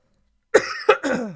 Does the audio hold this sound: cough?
yes